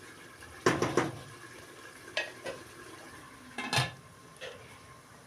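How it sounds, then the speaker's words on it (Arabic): Tomatoes, greens and chickpeas fry in a covered pot while a spoon stirs, giving a few sharp metallic clanks and scrapes over a soft steady sizzle, close by. "هي كتقلى البنات وانا كنحرك بطبيعه الحال"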